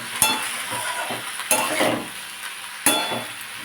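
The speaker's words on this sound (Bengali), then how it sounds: "দিয়ে মিশিয়ে নেব সবজি ভালো করে যেহেতু ভেজে নিয়েছি সেদ্ধ হতে খুব বেশি সময় লাগবে না" Fried vegetables for Bengali shukto being stirred in a pan with salt added, three distinct scraping strokes with metallic clinks over a soft, continuous sizzle.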